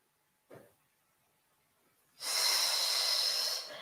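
Deep, audible breathing during a Pilates bridge exercise: a short inhale near the start, then after a pause a long, loud, airy exhale that lasts nearly two seconds, close and alone.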